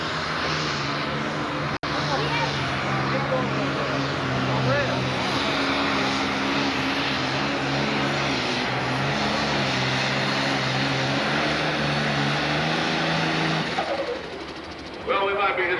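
A loud, roaring John Deere pulling tractor engine drones continuously for most of the stretch, heavy and sustained, pulling a sled at a 5,500 and 7,500 lb tractor pull, then cuts off abruptly near the end.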